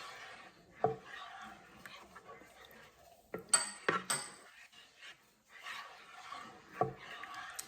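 A spoon stirs chicken and gravy in a Ninja Foodi Possible Cooker Pro, giving soft scraping and light clinks against the pot. The sounds are close but quiet and intermittent, and a voice talks over them.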